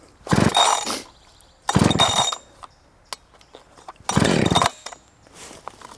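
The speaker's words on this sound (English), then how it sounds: "This is a chainsaw." A chainsaw engine sputters in three short bursts as someone tries to start it, with quiet clicks and rattles between each failed pull.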